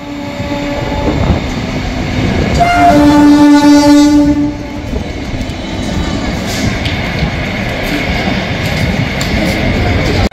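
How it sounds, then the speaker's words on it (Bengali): A diverted passenger express train between Dum Dum Junction and Ahmedpur rumbles past loudly and close, sounding one long horn blast early on before the steady rolling roar of passing coaches continues. "তোমরা কিন্তু প্রচুর ট্রেন দেখলে ডাইভার্টেড করা"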